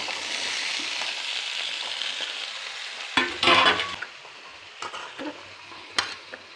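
Beans tipped into a hot pan in a home kitchen fry with a steady broadband sizzle, broken by a few louder bursts of stirring and scraping against the pan; no talking.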